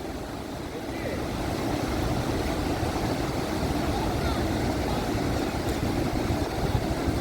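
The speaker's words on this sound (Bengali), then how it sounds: "ওটা হচ্ছে ড্যাম, এই যে এখান থেকে জল ছাড়ছে।" Water released from a dam on the Murti River rushes in a steady, broad roar, loud and constant throughout, with no clear voices.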